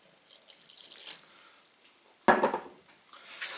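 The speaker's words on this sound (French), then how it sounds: "je remue et je rajoute de l'eau" Water poured into flour while dough is stirred: a soft trickle, then a sudden close splash and wet sloshing that fades, followed by a little more pouring, with no talking.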